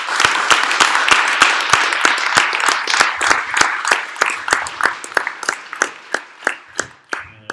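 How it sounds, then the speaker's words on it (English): A room of meetup attendees applauds together, a dense burst of clapping that gradually thins into a few scattered, distinct claps as it dies away. "can we give a round of applause?"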